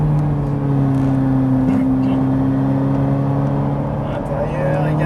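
A Ferrari 458 accelerating downhill on the Haut Saintonge race circuit, its engine a loud, steady drone with a sustained high-pitched whine, heard from close by for several seconds.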